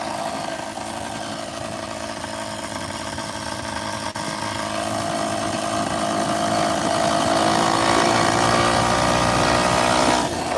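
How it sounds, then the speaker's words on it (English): A ported engine on a motorized bicycle revs while climbing uphill, giving a steady buzzing drone that grows louder and rises in pitch toward the end. It is close and continuous, with no talking. "You can hear the RPMs pick up."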